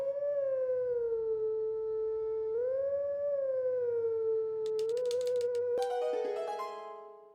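Wolf Link howls a melody in Zelda: Twilight Princess HD, a steady, loud, pure tone sliding between pitches, then bright chiming notes join near the end as the howl fades.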